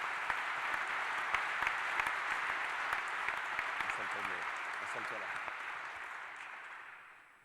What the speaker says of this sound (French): je pense qu'on peut t'applaudir pour te donner de l'énergie